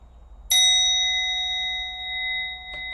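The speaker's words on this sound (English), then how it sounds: "I'll invite the bell." A meditation bell is struck once, loud and near, its clear ringing tone sustaining and slowly fading over several seconds in a quiet room.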